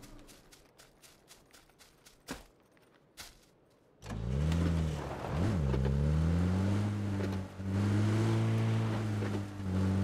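A car engine in a video game starts after a few seconds of clicks and taps, then drones loudly and steadily with rising and falling revs as the vehicle drives, with no voices over it.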